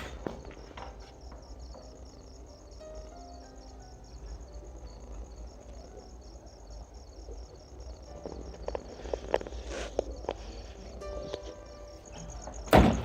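A door knocks and bangs in an empty, closed room, with faint scattered thuds growing louder and ending in one hard slam, all over a steady chirring of crickets.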